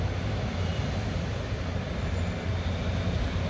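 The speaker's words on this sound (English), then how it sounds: "departing out at the same time is the 12:26 Northern service from Saltburn to Bishop's Auckland" A Northern train service rumbles at Middlesbrough station as a steady low rolling drone with a broad noisy wash, continuous and unchanging, with no voices.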